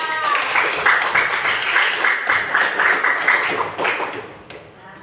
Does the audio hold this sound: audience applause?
yes